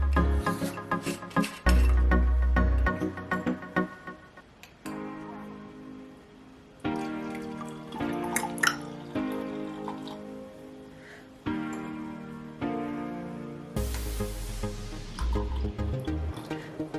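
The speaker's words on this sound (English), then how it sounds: "I'm gonna go ahead and pour myself another glass of this" Castello Paggio Moscato wine poured into a glass, a soft liquid trickle and drip sitting beneath steady tonal background music, with a louder gush near the end.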